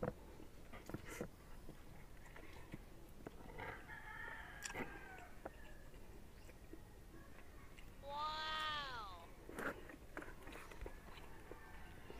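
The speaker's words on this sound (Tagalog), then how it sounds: "Manok." A rooster crows once at a distance against a busy outdoor background with scattered clicks and faint voices.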